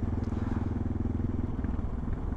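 A dual-sport motorcycle engine droning steadily while riding, a continuous close rumbling hum with no break and no speech.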